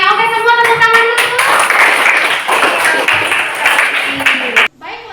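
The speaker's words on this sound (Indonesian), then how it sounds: "semua tepuk tangan dulu" A junior high school class claps hands together in a classroom, a burst of lively clapping mixed with voices before it stops abruptly near the end.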